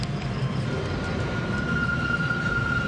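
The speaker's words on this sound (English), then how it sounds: "You can hear the planes, the F-16s roaring overhead." F-16 fighter jets roar overhead as a steady, loud broadband rumble that stays constant throughout, with a faint high whine running through it and no talking.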